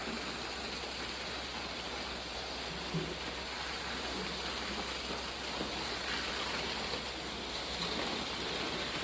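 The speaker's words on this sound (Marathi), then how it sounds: "कसलं जोरात पाऊस आहे" Heavy rain pours down in a village, a dense, steady roar of water that stays loud and unbroken throughout with no voices.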